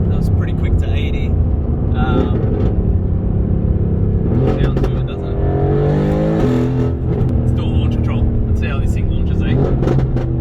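A Mercedes-AMG GT R sports car accelerates hard, its engine note climbing steadily and loudly from inside the cabin, with a brief dip as it shifts gear before pulling on again, while people talk over it.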